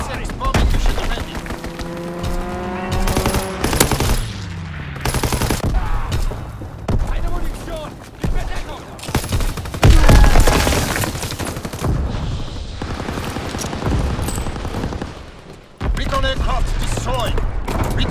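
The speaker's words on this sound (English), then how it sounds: "Fighter pilot inbound, strafing the target." Call of Duty: WWII multiplayer match with a fighter plane strafing: bursts of rapid gunfire and explosive impacts crowd a dense, loud battlefield mix, with game voice callouts heard over the action.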